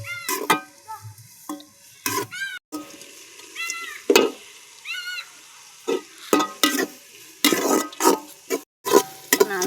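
Onions and cinnamon frying in hot oil and ghee for chicken biryani, crackling and sizzling close up while a spoon stirs and scrapes the pan in repeated bursts, with no talking.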